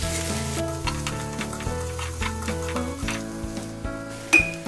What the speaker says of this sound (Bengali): 7-8টা কাঁচামরিচ ফালি। এগুলো হালকা ভেজে নিব।